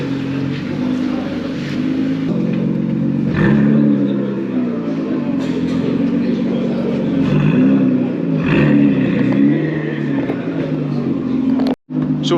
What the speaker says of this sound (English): Nissan GTR, and it's got a flame map on it, so let's kick it up a notch.